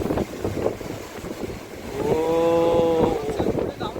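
Strong wind and heavy monsoon rain roar over the sea waves at Worli Sea Face in Mumbai, loud and close, with a brief tonal sound in the middle and voices talking under the din.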